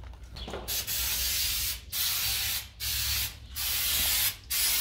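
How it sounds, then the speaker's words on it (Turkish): Carpex tire shine sprayed onto car tires in repeated long hissing bursts with brief pauses between them, close and loud. "Görmüş olduğunuz ürün de yine Carpex'in lastik parlatıcısı. Sprey şeklinde olanı satın aldık."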